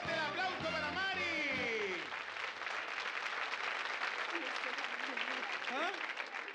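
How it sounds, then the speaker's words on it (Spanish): Studio audience applause on a Sábado Gigante game show for a contestant who just won 200,000 pesos. The clapping is sustained and fairly close. Brass-like musical stabs and rising tones play over it in the first two seconds and again near the end. "¡Fuerte el aplauso para Mari!"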